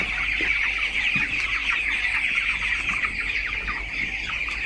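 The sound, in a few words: broiler chickens clucking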